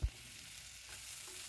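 Three kinds of washed lentils hit hot oil with a soft thump, then sizzle quietly and steadily in the pan with no talk.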